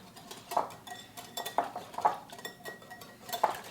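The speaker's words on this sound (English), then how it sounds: "let me whisk this up" A whisk clinks against a bowl while cocoa powder is mixed into warm milk, with a handful of sharp metallic taps at irregular intervals over a soft background.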